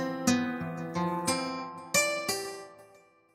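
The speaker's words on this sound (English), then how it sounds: "Here you can notice the ringing sound of the steel strings." Steel-string guitar from a software sound preset, played as a slow phrase of several plucked notes that ring on with bright, shimmering sustain, each attack clear and close, with no voices.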